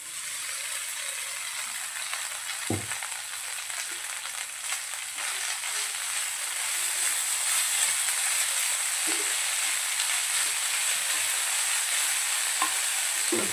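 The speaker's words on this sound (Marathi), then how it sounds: "आता यामध्ये आपण दलिया ॲड करूया।" Daliya is stirred into vegetables cooking in a pan, a steady sizzle and hiss broken by occasional scraping strokes of a spoon, growing slightly louder partway through, with no talking.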